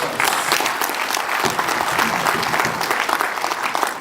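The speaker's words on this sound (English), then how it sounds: "Can we give Jake another round of applause?" An audience claps steadily and enthusiastically, a dense wash of applause filling the room with no break.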